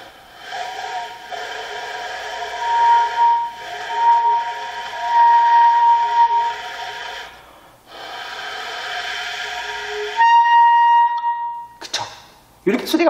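Saxophone flageolet (altissimo) attempt blown with very light air: a long, breathy, hissy tone carrying a thin, whistle-like high pitch, broken by a brief pause and ending in short squeaky bursts.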